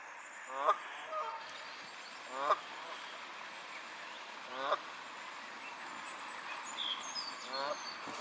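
Canada geese with a bunch of young in a park, giving several short, spaced honks at moderate distance over quiet background.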